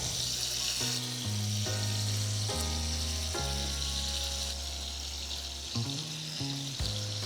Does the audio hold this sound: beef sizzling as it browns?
yes